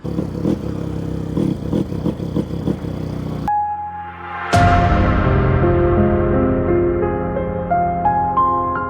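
A Delta YX 160 motorcycle engine runs with a rough, pulsing mid-range drone at first, then drops out before a sharp strike and a long sustained ringing tone that slowly fades.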